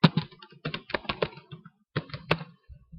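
Rapid clicking of a computer keyboard while text is entered, bursts of close, crisp keystrokes with a brief pause midway and no talking.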